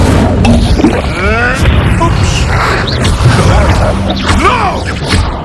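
An Incendio fire spell explodes in the Hogwarts Legacy video game amid loud, dense combat: booming blasts and whooshing impacts over continuous battle noise, with voices shouting spells.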